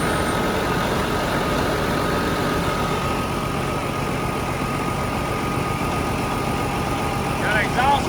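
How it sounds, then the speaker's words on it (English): A Detroit-powered diesel engine in a 389 Peterbilt truck runs at a steady loud idle throughout, with a rough exhaust-leak character and voices talking faintly over it. "All right, fire it up, Brax."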